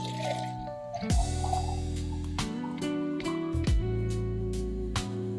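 Warm water pours into a neti pot in several separate bursts, each a rising gurgle as the vessel fills, with short pauses between pours.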